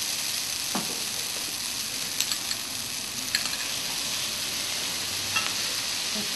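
Glass noodles stir-fried in a pan, giving a steady close sizzle with a soft crackle, plus occasional light clicks and scrapes from stirring.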